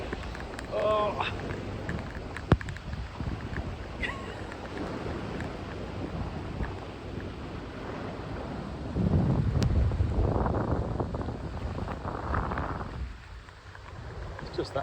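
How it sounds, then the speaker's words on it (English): Rain and gusting wind from a tropical storm roar as steady broadband noise, swelling louder partway through and buffeting the microphone. "It's raining!"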